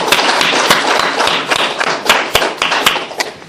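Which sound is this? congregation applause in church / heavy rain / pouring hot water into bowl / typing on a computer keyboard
congregation applause in church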